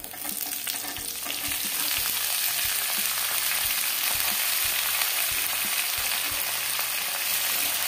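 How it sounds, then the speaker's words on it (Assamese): Chopped potatoes sizzling in hot oil in a pan after onions, a steady dense crackle with occasional stirring scrapes and clicks, close and continuous with no talking. "এতিয়া মই আলুটো অলপ ভাজি ল'ম।"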